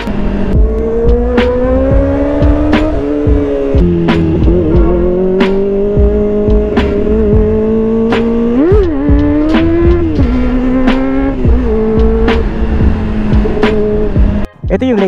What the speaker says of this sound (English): Ito yung latest from Kawasaki and isa sa pinakamainit na bike na pinag-uusapan ngayon dahil siya ay inline 4 expressway legal